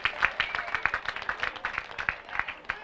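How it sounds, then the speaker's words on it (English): Applause for the guest of honor at a Rotary Club presidential installation: a smaller group's clapping, fairly quiet and distinctly rhythmic, with individual claps audible in an uneven pulse. "Another big clap for our guest of honor"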